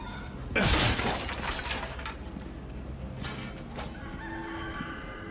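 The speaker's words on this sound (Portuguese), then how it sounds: "Tem uma galinha aqui, velho?" Chicken clucking in the video game Resident Evil 4 Remake, mixed into busy game audio with a sharp shattering crash near the start and steady ambient noise underneath.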